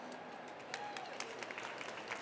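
Faint applause from an audience at a TEDx event, a soft patter of scattered clapping heard from a distance for a couple of seconds.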